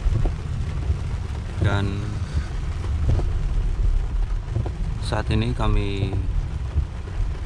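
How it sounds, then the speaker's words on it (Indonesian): Heavy rain pours on the city of Jeddah early in the morning, a dense steady hiss with wind buffeting, while someone speaks over it. "kota Jeddah diguyur hujan yang sangat deras sekali"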